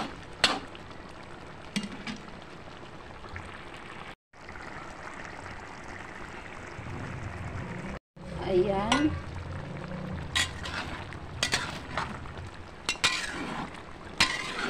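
Chicken with squash simmers in coconut milk as a soft, low bubbling and occasional light sizzle, punctuated by faint utensil clinks and stirring scrapes, quiet and close.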